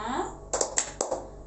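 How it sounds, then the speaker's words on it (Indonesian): A classroom clapping chant with the teacher and children in a third-grade class, several short sharp claps in quick rhythmic pairs following a spoken line. "Kita akan tepuk semangat agar anak-anak selalu semangat."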